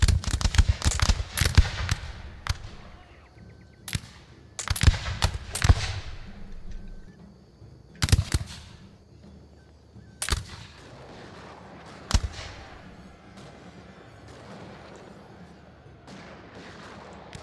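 Gunfire from a defensive tower in a Shogun 2: Total War battle: a crackling cluster of sharp musket shots at the start, then scattered single and paired bangs at irregular intervals over a quiet battlefield ambience.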